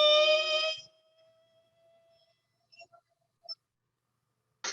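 A voice imitates a Prius straining to tow a tiny house: a sustained strained hum for under a second, trailing into a faint fading tone, then a few soft clicks and a brief burst at the end.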